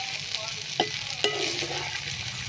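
Okra (bhindi) fry sizzles steadily in a pan while a spatula stirs it, with two sharp scrapes of the utensil against the pan standing out over the constant crackle.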